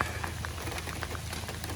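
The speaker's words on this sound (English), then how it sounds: "it is storming out." Steady rain falls during a storm at a lakeside campsite, a soft, continuous patter of drops on a surface with faint low rumble underneath and no voices.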